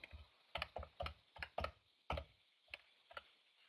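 Keys on a computer keyboard tapped in short, uneven bursts of clicks, fairly close and quiet, with gaps between strokes and no talking.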